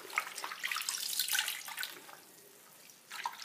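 Tap water runs and splashes in a sink while a soiled pillowcase is rinsed, a close, steady hissing flow with small drips and fluctuations that eases off before picking up again.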